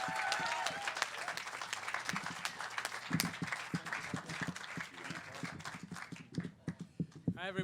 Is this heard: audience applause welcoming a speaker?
yes